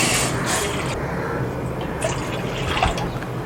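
Water is poured into a pot for boiling while making ellu kozhukattai, a close splashing fill with trickling, dripping bursts over a few seconds.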